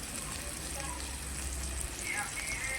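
Potatoes and chillies fry in plain oil with no water added, giving a steady, even sizzle that runs throughout at moderate level. A voice speaks over it.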